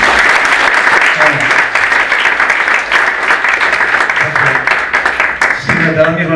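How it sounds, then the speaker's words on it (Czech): Audience at a conference in Prešov applauding steadily and loudly throughout, a dense continuous clapping that fills the room, with a voice briefly emerging near the end. "Poprosil by som vás mesto Kytice, kým sme jej zatleskali."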